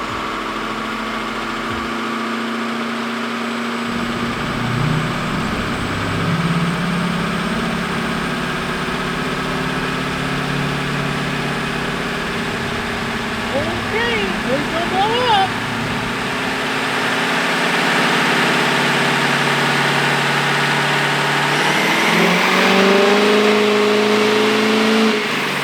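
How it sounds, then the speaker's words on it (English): A Ford Powerstroke diesel truck tuned past 700 hp on a dyno, its engine droning loudly, dipping to idle, then climbing through long revving pulls with whistling turbo tones. "So guys, dyno time again."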